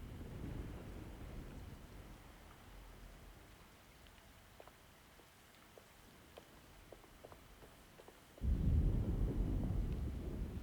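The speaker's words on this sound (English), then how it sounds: "Looks like a storm's coming." Deep thunder of an approaching storm rumbles in the horror game Alone in the Dark, a low roll at the start that fades, then a heavy close crack and boom surging up near the end over steady wind and rain.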